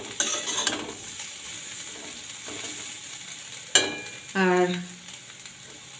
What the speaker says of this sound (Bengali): এই আলু ভাজছি